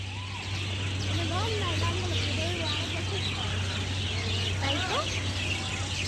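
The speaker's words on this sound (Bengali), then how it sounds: "আপনারা জাস্ট পাখির কিচিরমিচির শব্দগুলা শোনেন" Birds chirp and twitter in a park at dusk, scattered calls rising over a constant low hum and background noise, fairly close and without talk.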